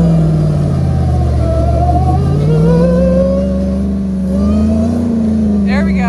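A truck engine revs while pulling a car out of snow during a snowstorm, a loud close rumble rising and falling in pitch as it strains under load, with voices heard briefly.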